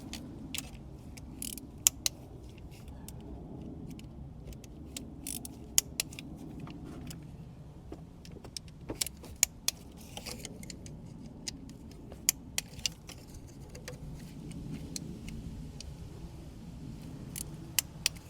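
A torque wrench tightens bolts on a 2010 Volkswagen Passat B6 engine during PCV valve work, giving sharp, scattered clicks and small metallic ticks over a low, steady mechanical background.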